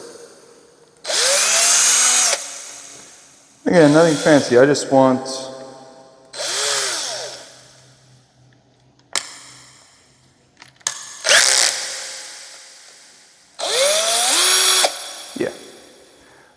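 Several short bursts of a small power drill with a small bit boring into wood of a door, each whining up and down, with a person talking between bursts.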